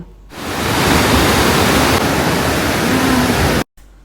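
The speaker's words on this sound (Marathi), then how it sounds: "डोंगरांच्या मधून या खळखळ वाहणाऱ्या नद्या" Loud, steady rushing of a mountain river in Uttarkashi fills the clip, a broad continuous roar like a fast stream, cutting off abruptly near the end.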